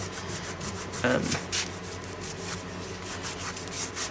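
A hand steadily rubs and smooths glued paper flat on an art journal page, making a continuous close, papery scraping with a slightly louder swipe partway through.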